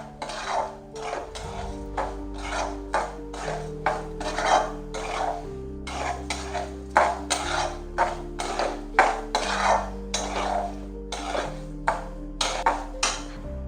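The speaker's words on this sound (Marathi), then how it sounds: "आता मी साखर टाकून घेतेय आणि साखर सुद्धा मिक्स करून घेते." A metal spoon repeatedly scrapes and clinks against a pan while stirring sugar into semolina roasted in ghee, rhythmic knocks and scrapes set against soft background music, no talk.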